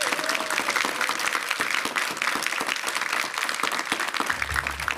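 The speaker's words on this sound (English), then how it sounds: "Give them a big round of applause." A crowd at a New York City government pre-K and 3K announcement claps steadily in a dense, even round of applause for the outreach team, moderately distant, with a low hum entering at the very end.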